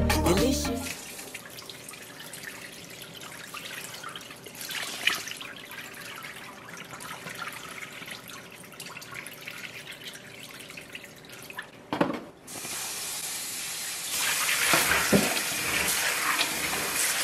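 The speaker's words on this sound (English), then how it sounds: "We are going to wash this now." Running water pours steadily while fermented corn is washed in a home kitchen for corn dough, a continuous close splashing and trickling that grows brighter and louder near the end, with a few sharp knocks.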